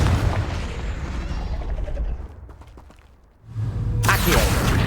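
A Confringo fire spell detonates in Hogwarts Legacy, a loud booming blast and crackling burst that fades into a quieter lull before another bright, hissing impact erupts near the end.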